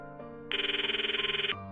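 A phone call ringing out in the visual novel Steins;Gate: a steady electronic ringback trill with rapid pulsing, one long tone of about a second, close and clear, set between quieter background music.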